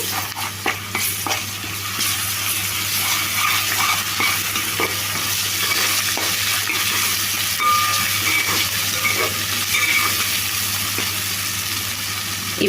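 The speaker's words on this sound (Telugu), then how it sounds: "ఇప్పుడు ఈ అల్లం వెల్లుల్లి పేస్ట్ ఒక రెండు నిమిషాలు ఈ నూనెలో ఫ్రై చేసుకోవాలి" Ginger garlic paste frying in hot oil in a pan for a country chicken curry, giving a steady loud close sizzle with occasional stirring scrapes, no talking.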